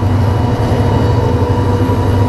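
A train rumbles past at close range on a winter morning in rural Bangladesh, a loud, continuous roar of wheels and carriages with no pause.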